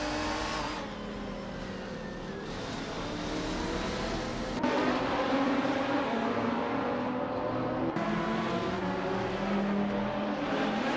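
GT race cars roar around the Mugello circuit in a racing video game, engines revving steadily with gear shifts and pack noise, loud and continuous with no voices.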